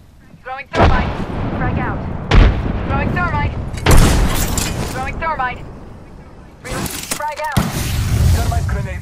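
Frag grenade blasts in the video game Apex Legends: several heavy, loud booms spaced a couple of seconds apart, with game voice chatter weaving between them.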